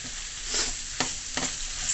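Shrimp sautéing in a pan for coconut curry shrimp, a continuous bright sizzle broken by a couple of sharp stirring knocks, close and alone.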